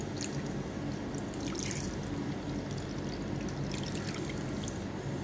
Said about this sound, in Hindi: दो कप पानी डालूँगी इसमें।